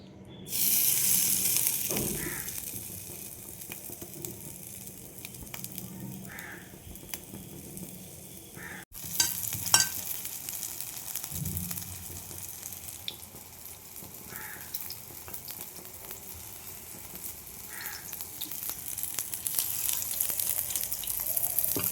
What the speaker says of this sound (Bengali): আমি এবার বড়াগুলো দিয়ে দেবো তেলের মধ্যে, গরম তেলের মধ্যে